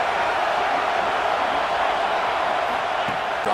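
Stadium crowd roaring steadily in a college football video game, a continuous loud wash of cheering with no breaks, heard on its own during a third-down play.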